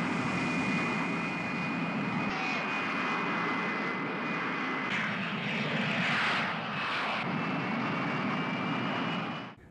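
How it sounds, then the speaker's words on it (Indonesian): A passenger airplane climbs away on takeoff, its steady engine roar holding loud and constant for several seconds with a broad rushing whine and no voices. "sesampainya di sana, pesawat telah terbang"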